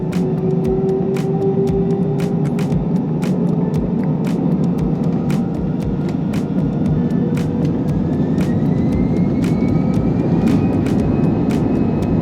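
Air France airliner jet engines roar steadily through takeoff, a loud, continuous broadband rumble with a rising whine, heard close from inside the cabin with sharp clicks scattered over it.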